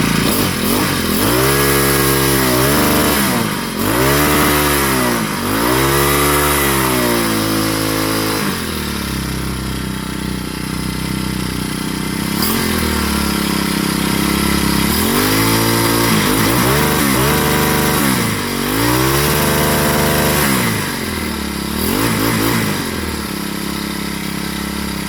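An MTD MP429 string trimmer's small two-stroke engine runs loud and close, idling and rising in repeated short revs before settling back.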